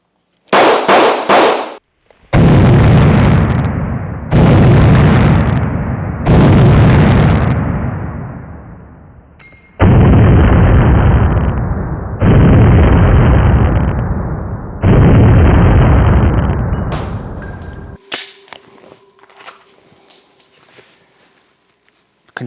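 Handgun shots, one sharp report followed by six evenly spaced loud, booming blasts, each decaying over a second or two, then faint scattered clicks and handling noise.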